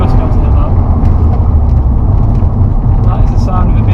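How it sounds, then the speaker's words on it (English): A 1992 BMW E36 325i with its six-cylinder engine drones loudly and steadily from inside the moving car, a dense low rumble with road noise throughout. "That is the sound of a BMW 6."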